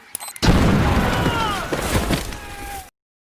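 A sudden loud bomb blast in a film erupts, followed by a rumbling, crackling roar with debris-like cracks that fades after a few seconds before cutting to silence.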